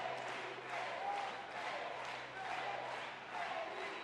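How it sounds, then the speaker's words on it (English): A boxing crowd at an amateur 69 kg bout roars and cheers steadily in support of the local fighter, a dense, sustained wash of voices with surging swells. "the crowd in support of local fighter Luis Veron."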